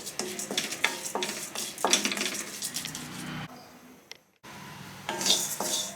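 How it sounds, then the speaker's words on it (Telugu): A spoon scrapes and clatters against a kadai in quick repeated strokes as dry lentils rattle while dry-roasting, with a brief pause before stirring resumes. "వీటిని ఒక కడాయిలో వేసుకొని ఫ్రై చేసుకుందాం"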